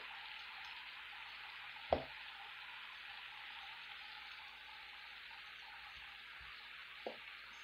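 Marinated chicken breast sizzles steadily on a griddle at about 300 degrees, a constant soft frying hiss with a couple of brief clicks or taps from handling, quiet and without talk.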